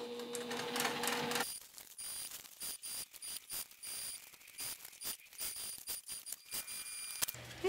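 A sewing machine runs top stitching on a tote bag near a D-ring, heard as short bursts of rapid mechanical whirring and clicking, stopping and restarting in an irregular rhythm, close and fairly quiet.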